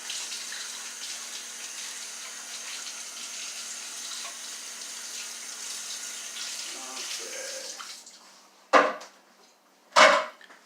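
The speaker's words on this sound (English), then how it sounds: "I suggest you rinse all that tomato out of there as soon as you can" A kitchen tap runs steadily as tomato is rinsed out of a container during salsa making, a continuous close rush of water that stops near the end and is followed by a couple of short knocks.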